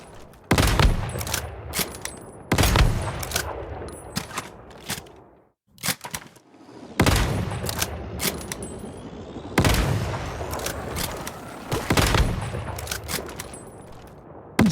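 Sustained gunfire at Treant's copy in the Once Human video game. Long bursts of rapid, loud shots run across the clip, with a brief lull near six seconds before heavy firing resumes and continues to the end.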